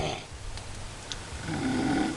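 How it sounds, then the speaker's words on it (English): A person snoring inside a tent at a campsite, compared with snoring from a second tent nearby; a low rasping breath swells near the end of the short stretch over a steady background hiss. "Tent number 1 is kicking tent number 2's ass in the snoring."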